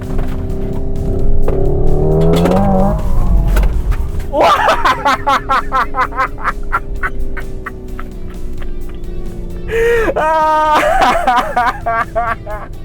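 A Hyundai Ioniq 5 N electric car corners hard at high speed, its synthetic engine sound rising and falling through simulated gear shifts with a sharp crackling burst, while someone talks over it.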